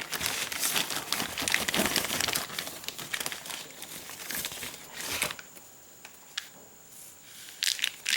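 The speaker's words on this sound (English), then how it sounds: "We have the new one right here. Let me take it out of the bag." A new power steering pressure hose for a 2003 GMC Sonoma is pulled from a plastic bag, making a dense stretch of close, steady crinkling that tails off into a few scattered rustles with no talking.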